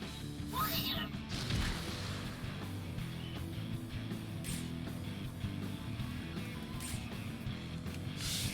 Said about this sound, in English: Whee! Explosions.